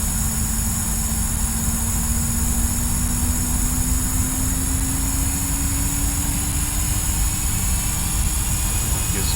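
Boeing 767-300ER jet engines spooling during the takeoff roll in the X-Plane 10 flight simulator, a loud constant roar with a slowly rising tone and steady broadband hiss throughout.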